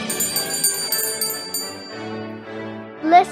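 A small bell rings in several bright strikes that fade, followed by a short high-pitched sound near the end.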